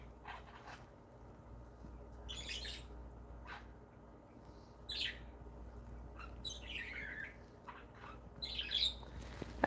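Pet birds chirp and squawk in scattered bursts from a quiet room, some calls sharp and near, others softer, over a low steady background hum.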